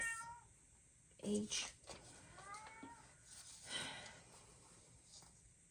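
A cat meows a few times indoors, soft and close, in short vocal bursts with quiet breathy pauses between them and no talking over it.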